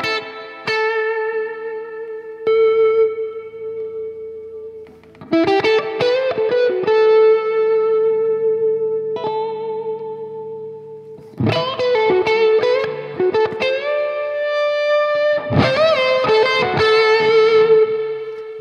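An electric guitar run through Mercury and Iridium reverb pedals on a large pedalboard rig plays sustained notes and chords with long, washing reverb tails, bursts of strummed chords separated by ringing decays.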